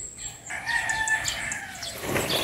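A rooster crows in the morning in a rural farm setting, one drawn-out call clear and fairly near above a quiet background, with fainter bird sounds after it.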